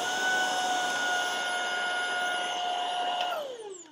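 A Tineco A10 Hero cordless battery-powered vacuum cleaner runs with a steady high-pitched motor whine and airflow hiss, then spins down as it is switched off at the end.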